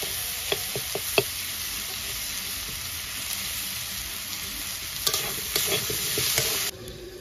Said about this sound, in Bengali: এবার আদা রসুনটা ওই মাছের মতন দিয়ে আমি একটু ভালো করে ভেজে নেব।